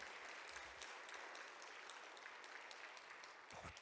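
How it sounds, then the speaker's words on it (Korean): A church congregation at an evening revival meeting applauds the pastor's wife, a sustained, even wash of many hands clapping in a large room, with no voices over it. "사모님도 박수 쳐주세요."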